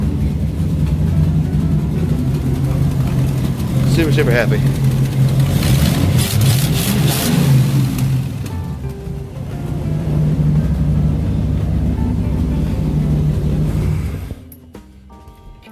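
A car with a Ford 390 FE engine and a freshly replaced timing chain idles with a steady low hum while someone talks over it; the running engine drops away near the end.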